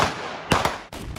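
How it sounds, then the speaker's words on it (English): A 40mm tank cannon fires in War Thunder, two quick sharp reports close together followed by a third after a brief gap, each a short thin crack. "Like some of the 40mm cannons,"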